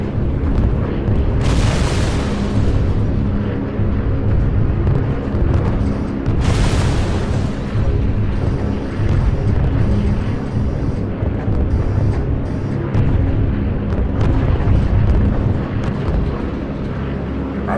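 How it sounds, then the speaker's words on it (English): Bombs explode in the Call of Duty: United Offensive bomber mission, with two big booming blasts over a heavy, constant roar of aircraft engines and no voices. "Got bombs going off."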